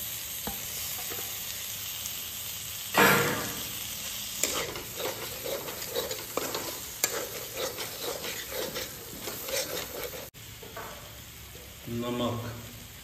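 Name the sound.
tomatoes frying and being stirred in spiced oil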